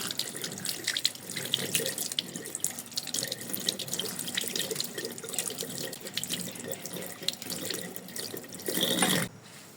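Tap water running while a mango is rinsed under it; a steady splashing stream with irregular spatters from the fruit and hands continues for several seconds, growing louder briefly before cutting off at the end.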